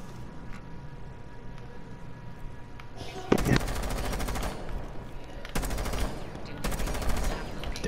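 Rapid automatic gunfire in Rainbow Six Siege, with three loud sustained bursts after a quieter stretch, while a voice talks in the background.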